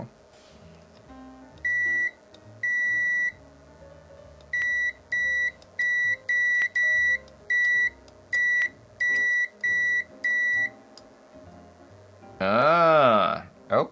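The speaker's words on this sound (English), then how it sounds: "Oh wait, it's not in beeping mode, that's why." A keyboard-testing device in beeping mode gives a string of short electronic beeps, a dozen or so in an uneven rhythm, over quiet background hum, followed by a brief swooping noise at the end.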